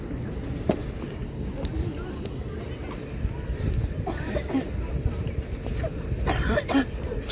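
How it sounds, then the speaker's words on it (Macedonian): A boy coughs several times outdoors on a trip to Ohrid, short harsh bursts, near and loud, amid background chatter and movement. "Што убаво кашлаш."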